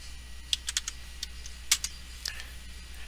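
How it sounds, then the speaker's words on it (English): Soft, sparse keystrokes on a computer keyboard, including taps of the main Enter key while values are entered, sound close and quiet as a few irregular clicks over a faint room hum with no voices. "I tap the enter key, that is entered in, and now I can type in a series of values."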